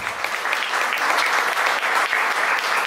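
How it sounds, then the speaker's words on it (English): A room of attendees at a GOP House candidate forum in a deli applauds the panel, with close, loud and dense clapping that holds steady for a few seconds. "can we give a round of applause for the panel forum here?"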